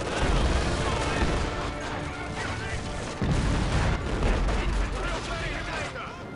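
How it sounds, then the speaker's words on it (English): Explosives detonating in the World War II strategy game Company of Heroes 2, a dense, loud rumble of blasts and gunfire-like crackle sustained throughout, with a heavy renewed burst midway. "Detonate the explosives."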